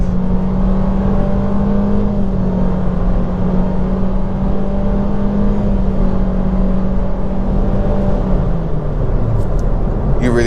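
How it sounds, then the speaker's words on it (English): A Nissan Versa SR engine pulls hard to pass traffic, heard from inside the cabin as a loud, steady drone that holds its pitch and then eases off near the end. "You really have to keep your foot in to pass traffic, but hey, that's why you get an Altima"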